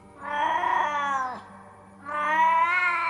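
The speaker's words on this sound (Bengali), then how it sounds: "বিড়ালটা তখনও কেঁদে চলেছে।" A wild cat yowls at night in the jungle, two drawn-out, mournful cries close by, separated by a brief pause.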